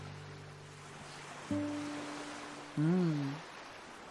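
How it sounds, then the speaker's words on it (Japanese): Ocean waves in the video game The Ghost Painter, a soft steady wash of surf under a low humming drone and tonal notes, with a brief murmured voice. "何これ、海の音。"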